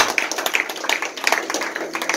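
A church congregation claps in praise during a sermon, a dense, fairly close run of hand claps with a steady rhythm and no voices over it.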